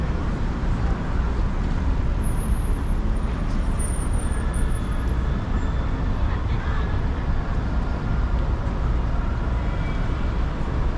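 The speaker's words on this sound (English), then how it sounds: "This is Rush Avenue, rush hour traffic." Dense, continuous rush-hour traffic roars all around on a New York City avenue near 44th Street, with engines rumbling, occasional hisses and high squeals, and faint voices mixed into the din.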